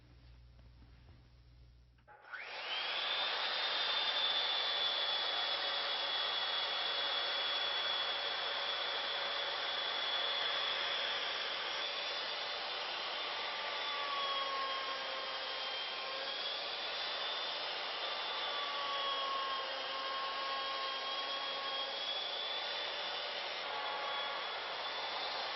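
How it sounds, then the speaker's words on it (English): A router with a 2704 surface planing bit mills a wooden bowl blank down to two inches thick, a loud, steady high-pitched whine that starts abruptly and holds for over twenty seconds. "now I've put in a 2704 surface planing bit, and we're just going to machine this down until it's 2 inches thick"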